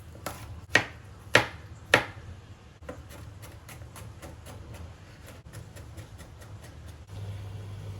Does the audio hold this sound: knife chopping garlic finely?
yes